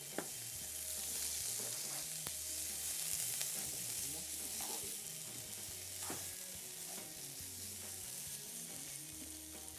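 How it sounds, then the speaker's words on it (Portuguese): Pupunha (peach palm) frying in a pan, a steady loud sizzle with intermittent stirring scrapes and clinks, close up and without talk. "O pupunha para a frigideira."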